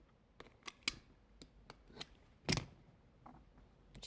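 Scissors snip through duct tape while trimming feathers on a handmade turkey bag, a string of sharp, close, separate cuts spaced irregularly, one heavier crunch midway, no talking.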